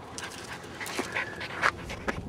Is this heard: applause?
no